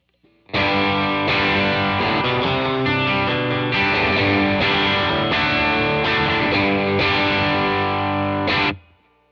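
A Fender Vintera '60s Jaguar on its bridge pickup, mid cut off, plays a distorted sustained riff of chords and notes for several seconds, loud and close, then cuts off abruptly.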